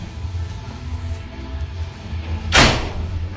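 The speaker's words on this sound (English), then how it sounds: "I'm just going to go close the door" A single door swings shut with one firm thud partway through, standing out above a low, steady room hum in an otherwise quiet indoor space.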